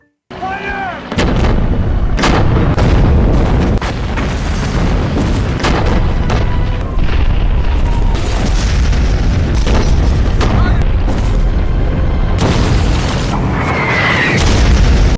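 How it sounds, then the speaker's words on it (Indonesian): Heavy artillery fire in a war film booms continuously, with loud repeated blasts and rumbling explosions layered over a dense, chaotic battlefield din. "Mayor Reed kemudian memberikan tembakan bantuan kepada Batalion 2"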